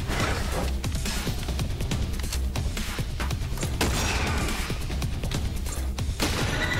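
Sniper gun shots in the video game Riftstorm, a continuous barrage of loud sharp blasts and crashing impacts layered with dense battle noise, with no voices over it.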